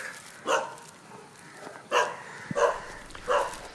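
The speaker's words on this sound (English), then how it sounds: "Got one of my favourite sounds of all, the barking dog." A dog in Goa, India barks four times, single sharp barks spaced about a second or more apart, fairly close against a quiet outdoor background.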